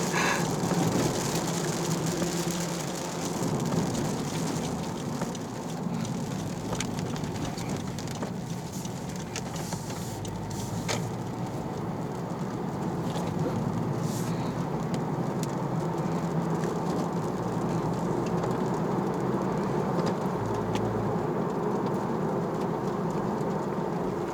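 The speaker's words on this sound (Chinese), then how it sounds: "我们下雨了喂，赶快回家收衣服了" Rain falls steadily outdoors, a continuous even hiss that holds at a constant level for the whole stretch, with no voices over it.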